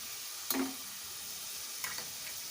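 Ginger-garlic paste and ground chili fry in oil for a dhaba-style moong dal tadka, making a soft continuous sizzle with two brief spatter bursts and a light stirring tick, faint and close.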